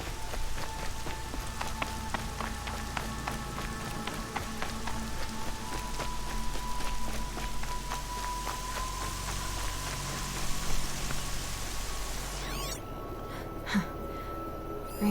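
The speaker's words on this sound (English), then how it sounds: "Rain's not so bad." Steady rain falls in the open-world game Horizon Zero Dawn, a continuous hiss of drops on the ground holding an even level, with a low hum beneath and a brief thump near the end.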